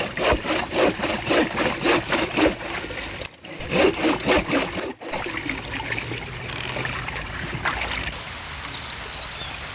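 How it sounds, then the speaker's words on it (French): Water spilling over a series of small raised steps in a trout nursery stream, a loud, close splashing flow with rhythmic surging pulses at first, then settling into a steadier, softer trickle. "Les niveaux, ainsi relevés, provoquent des cascades successives où l'eau s'oxygène."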